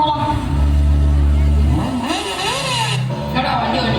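A vehicle engine revs up and pulls away during a school drama performance, a low steady idle rising into a climbing rev and then settling, loud and close, with voices heard over it.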